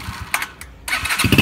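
A learner rider revs a motorcycle engine in short bursts, the engine loud and close with a rough, uneven rise and fall.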